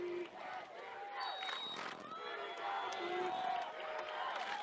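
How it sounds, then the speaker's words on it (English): Crowd cheering and roaring at a high school football game in Elizabeth as the home team Beet Diggers' fans fire up, a steady dense din of many voices with rising shouts and whistles throughout. "Crowd firing up for the Beet Diggers here."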